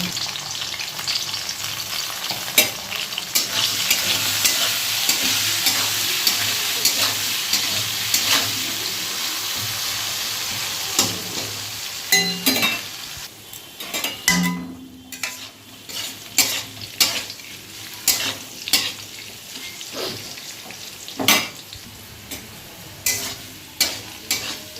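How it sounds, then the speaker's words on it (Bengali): Potatoes with turmeric fry in hot oil in a pan, a loud continuous sizzle with repeated scraping stir strokes, then the sizzle fades and sharp clinks of a utensil against the pan punctuate the quieter end. "হলুদ দিয়ে আলুটা ভালো করে ভাজা ভাজা করব"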